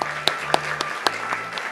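Applause at an agricultural newspaper advertising award ceremony, a short run of sparse, evenly spaced claps over a steady hum.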